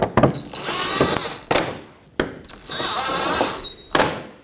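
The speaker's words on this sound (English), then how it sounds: "Let's put in the screws that hold all of this together." A cordless power drill drives screws into the front bumper impact absorber of a 2012-2017 Toyota Camry. Two long whining runs are each broken by sharp clicks and thunks, loud and close, with no talking.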